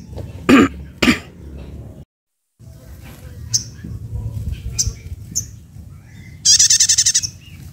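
A caged prinia (prenjak) songbird gives a few short, bright chirps, then a rapid buzzy trill, close by, after a couple of throat-clearing coughs.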